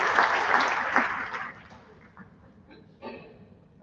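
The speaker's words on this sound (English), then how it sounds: "So let's give a round of applause to everyone." Audience applause at a school athletic awards program, a dense, steady clatter of many hands that slowly thins out and fades, leaving scattered claps near the end.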